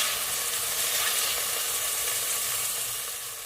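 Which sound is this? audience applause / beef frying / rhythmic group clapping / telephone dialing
beef frying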